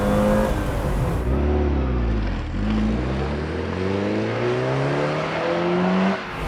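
A 1994 Porsche 968 engine revs hard under full throttle, its pitch climbing steadily through a gear change, loud and close throughout.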